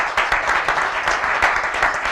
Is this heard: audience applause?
yes